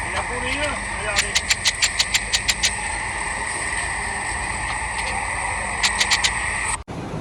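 A John Deere 5038D diesel tractor engine idles with a steady rumble while a series of sharp, rhythmic clicking or knocking bursts repeats twice, ending in a brief cutout.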